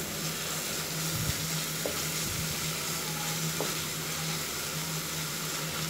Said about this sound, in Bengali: এগুলি দিয়ে আমি আরও ভালোভাবে আরেকটু মশলাটা কষিয়ে নিচ্ছি।